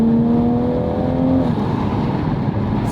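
Toyota Supra mk5 fitted with a new exhaust and intake, its engine revving loud and close, a rising whine settling into a steady heavy drone that runs continuously without voices.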